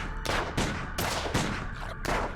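Gunfire in the comedy adventure game Sam & Max Season 3 comes as four or five loud, close bursts of rapid shots, separated by brief gaps, with no talking.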